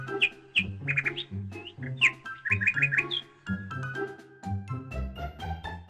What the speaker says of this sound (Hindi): उसे किसी परिंदे की सुरीली आवाज आई।